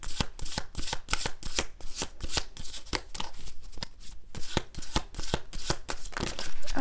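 Tarot deck being shuffled by hand, a quick run of crisp riffling flutters and soft card slaps repeating in close succession, near and steady throughout with no talking.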